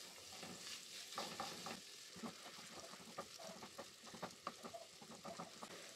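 Smoked calabresa sausage cut into cubes crackles and sizzles steadily in a frying pan, a soft continuous spatter with scattered small pops and occasional stirring, no voices.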